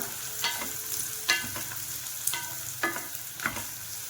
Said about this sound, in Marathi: कांदा घालणार आहे भरपूर असा, 1 वाटी कांदा